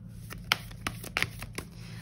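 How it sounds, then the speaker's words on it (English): Tarot cards handled and shuffled in a quiet room, giving a few soft, brief riffling flicks and taps at uneven intervals over a low steady hum. "Let me just grab a few cards for this question."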